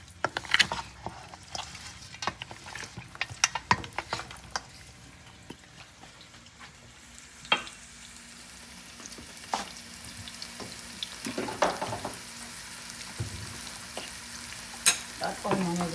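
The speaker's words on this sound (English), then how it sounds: "That onion is going to fry up for a little while" Chopped onion sizzles steadily in a hot pan for a curry chicken wing dish, a close, constant hiss broken by sharp scraping clicks and knocks as it is stirred; no one speaks.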